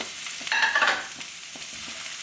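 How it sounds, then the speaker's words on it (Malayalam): Roughly cut ripe tomato sautés with onion in a pan, giving a bright close sizzle that flares briefly when stirred, then settles into a steady frying hiss with no voices. "ഇതും ഒന്ന് വഴന്നു വന്നോട്ടെ കേട്ടോ."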